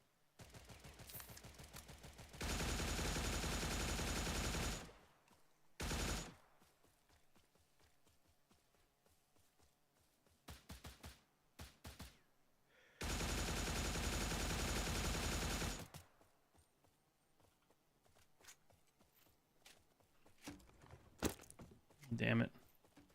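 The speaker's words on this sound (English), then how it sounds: "the FN 2000 Tactical is still powerful because it is still" Two long, loud bursts of sustained automatic fire from an FN 2000 Tactical rifle in a zombie video game, each lasting a few seconds, separated by quieter stretches with scattered single shots and faint background sounds.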